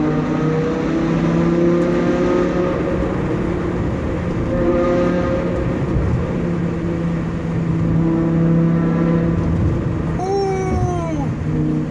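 BMW M5 E60 accelerating hard on a freeway, its engine a steady loud drone with rising tonal harmonics held for the whole stretch, road roar underneath and a brief higher sweep near the end.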